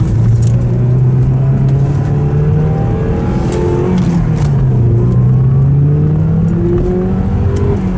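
A sports car accelerates hard, heard from inside the cabin, with engine pitch climbing, dropping at a gear change, then rising again under a steady roar.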